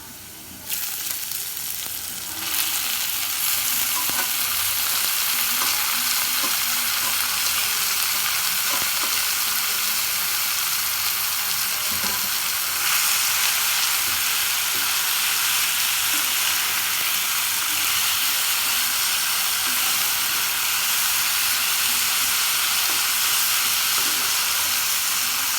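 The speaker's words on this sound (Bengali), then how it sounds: "ভাজা হয়ে গেছে, এখন আমি শাকটা দিয়ে দিচ্ছি।" Five kinds of mixed leafy greens hit a pan of fried onions in a rustic home kitchen, setting off a loud, continuous sizzle that surges after a short quieter start and holds steady, with no talking.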